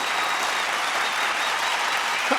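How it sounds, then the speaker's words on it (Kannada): A studio audience applauds at a comedy show, a dense, even wash of clapping that holds steady and loud for a couple of seconds. "ಇನ್ನಿಷ್ಟು ದೊಡ್ಡವನಾದ್ರೂ ಮಕ್ಕಳಾಟ ಬಿಡದೆ ಇರೋ ಕಾರ್ತಿಕ್ಗೆ ಚಪ್ಪಾಳೆ ಬರ್ಲೇಬೇಕಲ್ವಾ?"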